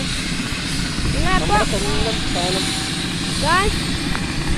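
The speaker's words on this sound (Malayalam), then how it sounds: "ഞാൻ ആദ്യമായിട്ടാണ് ഇങ്ങനെ എത്ര വലിയ ഹെലികോപ്റ്റർ ഇത്ര അടുത്തുനിന്ന് തന്നെ" A large helicopter's engine and rotor roar steadily at close range, a dense broadband drone with excited voices calling out over it.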